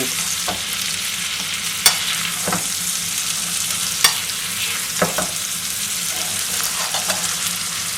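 Butter sizzles steadily and loudly in a pan while roast beef is basted, with a constant frying hiss and occasional sharp pops and spoon clicks, no speech.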